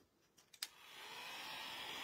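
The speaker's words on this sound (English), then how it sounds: "I got my little hair dryer stick" A few faint clicks, then a small stick-style hair dryer used as a heat gun for nail art whirs on and blows with a steady airy rush that grows slightly louder.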